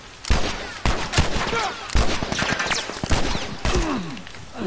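Bursts of gunfire in The Last of Us, several loud close shots spread over a few seconds, with a voice talking over them.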